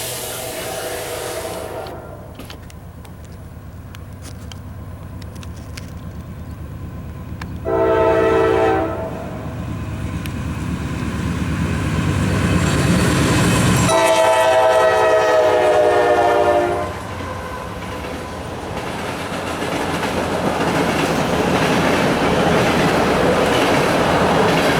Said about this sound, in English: that was train number one that I was expecting, the 65E